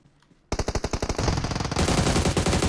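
Automatic M762 rifle fire in the mobile game PUBG Mobile: after a brief quiet moment, a rapid, loud burst of evenly spaced shots starts, thickening into overlapping sustained gunfire.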